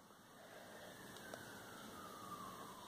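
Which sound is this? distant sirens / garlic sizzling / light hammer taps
distant sirens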